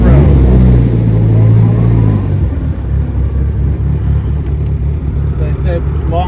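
A 1957 Morgan Plus Four drophead pulls away, its engine rumbling low and loud, rising in pitch as it revs and then settling into a steady drone as the car gets under way.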